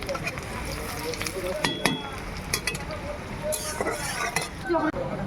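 Onions sizzle and get stirred in a pan while chicken is being cooked, a steady frying hiss with scraping stirs and occasional utensil clinks, under ongoing talk.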